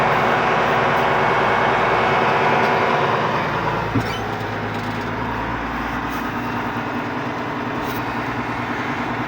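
A tractor pulling an SPM8 (Veles) seeder after winter storage rolls along slowly, its engine a loud, steady low drone throughout with a small clunk partway through.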